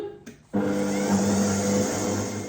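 A kitchen food processor whirs into motion at speed 3 while mixing flour for hot dog dough, starting abruptly after a brief clatter and then holding a loud, steady motor drone with a humming pitch.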